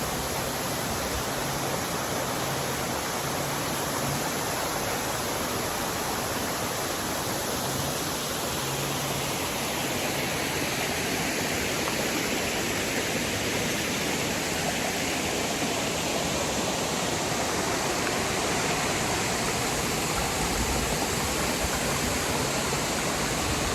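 Waterfall on the way to Goslar, heard as a loud, unbroken roar of rushing water that fills the whole stretch with no pauses.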